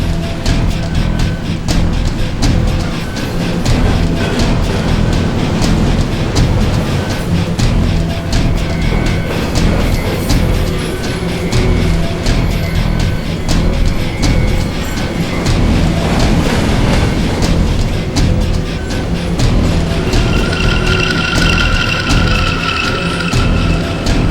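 A moving passenger train rumbles steadily from inside a carriage, with a loud, continuous low roar, rattling and faint clatter, and brief tonal squeals toward the end.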